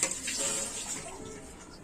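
Water from a glass splashes steadily into a cooking pot for mango firni, a short continuous pour heard up close with no talk.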